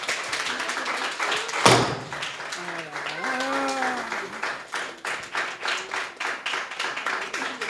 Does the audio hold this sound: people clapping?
yes